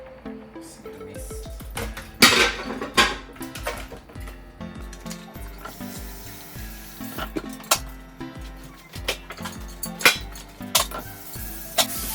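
Greasy dishes, plates and cutlery being washed: continuous clattering and clinking of crockery and utensils with frequent sharp knocks, running water hiss underneath, close and fairly busy throughout.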